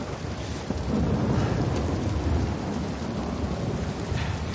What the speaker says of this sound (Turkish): Gözükmüyor ki hiçbir şey yağmurdan.